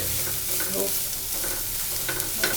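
Vegetables for vegetable fried rice sautéing in a pan, a soft steady sizzle broken by repeated scraping stirs of a ladle, close and fairly quiet, with no talking.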